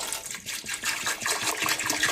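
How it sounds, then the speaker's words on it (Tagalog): Water from a bottle gushes into a cooking pot holding onion, tomato and fish for a soup, a close, steady pouring splash. "Nilagyan lang ng tubig dito"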